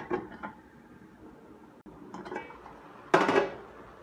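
A lid clatters onto a pan of egg and cabbage in a home kitchen, with one short metallic clank near the end after faint earlier clinks and handling.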